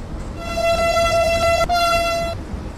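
A Vande Bharat express train in the Train Simulator Classic game sounds one sustained, loud horn blast lasting about two seconds, clear and close, with no voices.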